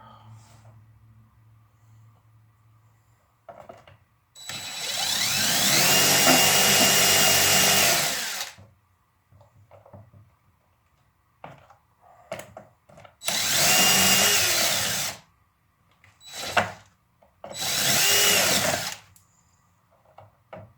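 Cordless power drill with a step drill bit cutting a hole, up to the 3/4 inch step, while installing light whips on a Can-Am Outlander XMR 1000R: three loud, close whining bursts of several seconds each, separated by quiet pauses and short clicks.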